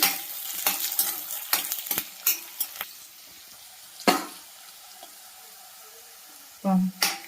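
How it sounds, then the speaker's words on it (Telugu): Onion and curry leaves fry in a pan for eggplant bajji, a steady low sizzle broken by scattered clicks and scrapes of stirring, with a louder scraping burst near the end. "ఇవన్నీ అయితే మంచిగా ఫ్రై అయింది కదా"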